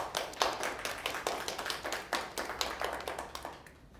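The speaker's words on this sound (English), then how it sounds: "Can I have an applause for Noe?" Applause from an audience at a community panel on highway expansion in Austin, heard as a steady run of close, crisp hand claps that thins out toward the end, with no talk over it.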